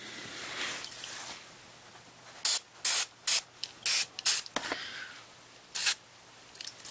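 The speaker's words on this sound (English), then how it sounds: "Spray in each hole that is hard to unscrew your bolt like that." WD-40 is sprayed into stuck small screw holes in a string of short, sharp aerosol bursts, about seven or eight close hisses with brief pauses between them, against a quiet background.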